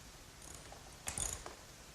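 A ratcheting clatter while carriage bolts are fastened to the nut of a workbench bench screw, a short burst of metallic clicks over quiet background.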